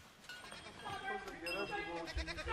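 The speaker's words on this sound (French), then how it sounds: "Je connais mes chèvres par cœur." Goats settling for the night around a large tree at dusk, tended by an Abkhaz shepherd, bleat softly in a few brief calls over low background noise.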